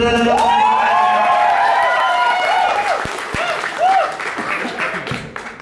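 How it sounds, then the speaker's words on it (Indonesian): Audience clapping and cheering after a talk show performance, with whoops and excited voices rising over the applause before it thins out. "Boleh tepuk tangan sekali lagi untuk Rindra dan Bapak."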